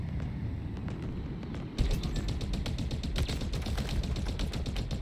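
Rapid automatic gunfire in Halo Infinite rattles in quick, loud bursts aimed at a Banshee aircraft, starting abruptly after a quieter lead-in and continuing densely to the end.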